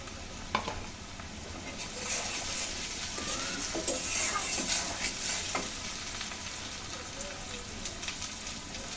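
Banana flower frying in a pan with coconut and green chili, a continuous close sizzle with intermittent stirring scrapes and taps of the spoon, moderately loud and steady.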